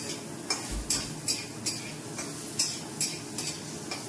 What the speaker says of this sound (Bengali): পটলটা দেখে একটু বেশি তেল দিয়ে একটু ভাজতে হয়, লাল লাল করে ভাজতে হয়